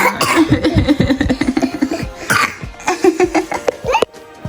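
Several rough bursts of coughing and sputtering in quick succession, loud and close, imitating sick cows in children's play, with giggly vocal noises mixed in, ending abruptly.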